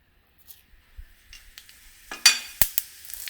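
Cumin seeds hit hot oil in a small tempering pan for coconut chutney, with faint clinks, then sharp crackling spits and pops bursting loudly near the end.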